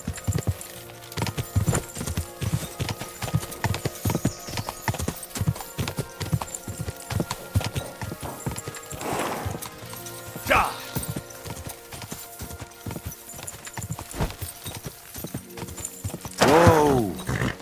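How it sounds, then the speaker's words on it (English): Horse hooves clip-clop steadily on a path in the medieval video game Kingdom Come: Deliverance 2, a brisk repeating rhythm with a brief neigh and people talking over it. "That looks like a bloody expensive horse."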